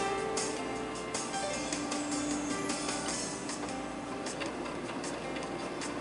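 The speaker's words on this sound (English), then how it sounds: "turn up your hem and stitch with the blind hem stitch on your conventional machine" A conventional sewing machine runs a blind hem stitch, giving a continuous close mechanical whir with light rhythmic ticking throughout, and no voices.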